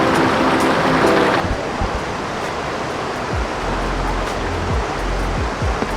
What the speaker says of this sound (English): The true gem of Prešenik waterfalls is what's right behind me.